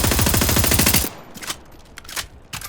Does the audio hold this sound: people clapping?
no